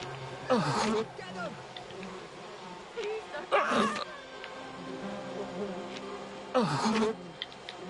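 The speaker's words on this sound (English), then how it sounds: "And now I need to go because there's bees." A swarm of bees in the video game We Happy Few, a steady insect buzz running through the scene with louder bursts of movement, while a person talks over it.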